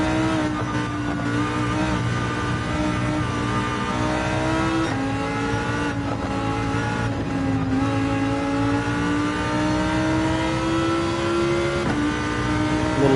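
A race car engine in Gran Turismo 7 drones loudly and steadily, its pitch rising through the gears with short dips at shifts, close and unbroken throughout.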